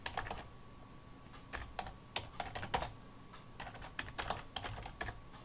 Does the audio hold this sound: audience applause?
no